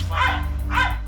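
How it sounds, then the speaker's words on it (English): A police dog barks twice in sharp, loud, close bursts during a roadside standoff with a suspect, over a steady low engine rumble. "This dog's gonna come take you out, man."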